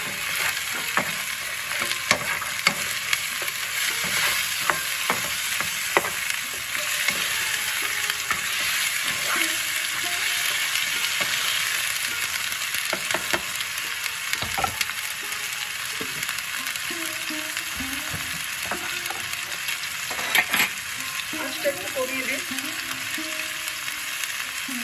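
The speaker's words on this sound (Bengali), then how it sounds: "আলুটার মধ্যে জিরেটা গন্ধটা যাক, আলুটা আর একটু ভাজা হোক" Potatoes frying with cumin in hot oil, a steady close sizzle throughout with occasional scraping stirs and clinks, no talking.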